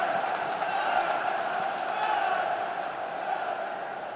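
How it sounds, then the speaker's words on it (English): A football crowd at a Sunderland match gives off a continuous dense roar of massed voices, with a steady loud wash of chanting and shouting that holds without breaks. "Crowd trying to get this team going"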